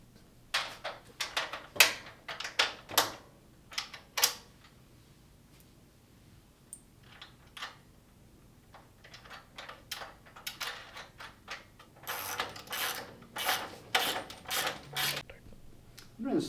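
Metal hardware clicks and ratchets as speed washers go into the top, middle and lower sections of a double-sided server rack, in scattered bursts of sharp, close mechanical snaps separated by quiet pauses.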